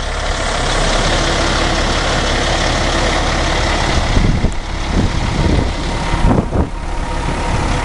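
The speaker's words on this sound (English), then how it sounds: "2006 Peterbilt 379, Caterpillar 475 horsepower," A 2006 Peterbilt 379 day cab truck with a 475 hp Caterpillar engine idles steadily and loudly nearby, a deep continuous diesel rumble with a few brief knocks and clanks toward the end.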